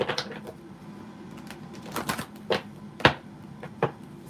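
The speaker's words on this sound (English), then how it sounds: "Shuffle the cards back in." Tarot cards are shuffled by hand, giving a string of crisp riffling clicks and taps that come in uneven bursts, close and moderately loud.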